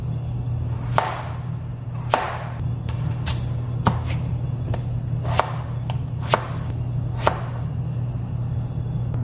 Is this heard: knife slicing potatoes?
yes